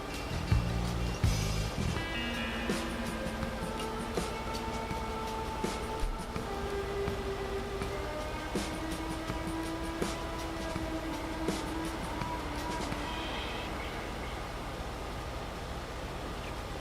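Passing train in Farming Simulator 22 on the Purbeck map, a steady rolling rumble with rail clatter and tonal hum lasting throughout, fairly loud and continuous with no talk.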